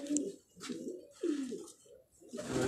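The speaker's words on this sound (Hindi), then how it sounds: "उस्ताद जी, बेसिकली ये रामपुर का ही कबूतर है ये" Rampuri pigeon cooing in a repeated rolling series of soft, throaty coos, fairly close, with no talk.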